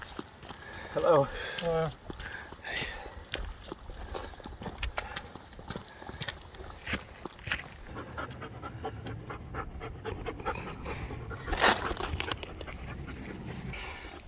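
Dog panting on an alpine hiking trail on Huron Peak in Colorado, quick rhythmic breaths close by, mixed with footsteps and trail noise, a few louder bursts along the way.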